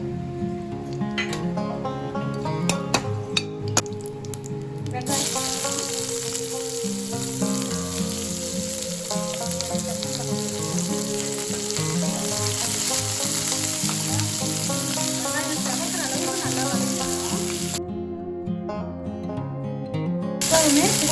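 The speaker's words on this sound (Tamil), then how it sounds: "எப்பவுமே சிக்கன் குழம்புக்கு வெங்காயம் நல்லாவே சவக்கணும்." Onions frying in oil with cinnamon and cloves for a chicken curry, a loud steady sizzle running throughout with occasional scraping stirs.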